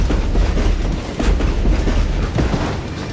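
A train rolls on its rails in the Western game Call of Juarez: Gunslinger, a loud, close, continuous rumble with rhythmic clacks and thumps.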